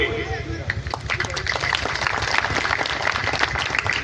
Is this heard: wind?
no